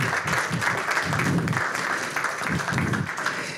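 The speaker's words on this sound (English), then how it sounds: "It's only appropriate that we give a birthday hand clap." A council meeting audience gives a brief birthday hand clap, a steady wash of clapping from a room of people at moderate level, with faint voices beneath.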